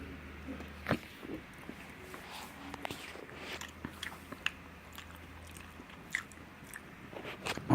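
Someone chews a bite of MRE chicken tetrazzini with Tabasco, giving soft, close, wet chewing and small crunches at an irregular pace, quiet and without talk.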